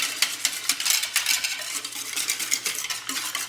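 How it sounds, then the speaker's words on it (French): A mixture of egg and semi-skimmed milk for brioche perdue is whisked briskly in a bowl, giving a steady, close rhythm of scraping clinks and swishes of utensil against dish with no pauses. "Et on mélange bien pour obtenir une bonne préparation bien homogène"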